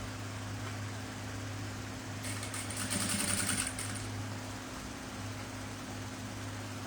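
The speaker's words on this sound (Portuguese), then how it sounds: "faço uma costura de meio pé de máquina para segurar aqui e já vai rebater a nossa costura" A sewing machine runs a short seam on a fabric pouch, a steady mechanical whir lasting about two seconds over a constant low background hum, with no talking.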